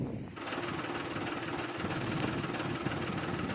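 An old tractor's engine runs steadily on a farm during a moong bean harvest; the tractor has no brakes and a faulty clutch. It makes a continuous, close, even drone with no talking.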